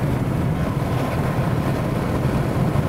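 A front-wheel-drive sports car runs flat out in fourth gear through a banked track turn at around 100 mph. The engine gives a steady loud drone mixed with broadband wind and road roar, with no talk over it.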